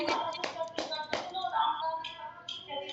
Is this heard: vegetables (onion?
no